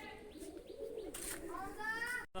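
Pigeons coo softly in the background while birds chirp and a voice speaks nearby, ending with a brief sharp click.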